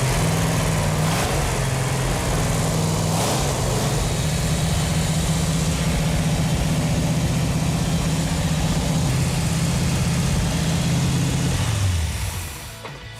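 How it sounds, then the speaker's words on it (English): Chrysler 440 six-pack V8 engine idling with a steady, loud low rumble throughout, a slight change in tone midway, then fading out abruptly at the end. "It feels really good to hear that engine run."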